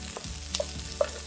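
Onions, carrots and mushrooms sauté in a pan for vegan japchae, with a soft steady sizzle broken by a couple of sharp utensil taps and stirring scrapes.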